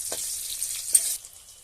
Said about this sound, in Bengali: এখন এই আলু, বেগুন আর পেঁয়াজ ওটা ছেড়ে দিলাম।